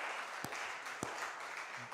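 A church congregation applauding during a Spanish-language service, soft continuous clapping with a couple of sharper claps standing out, fairly distant and even.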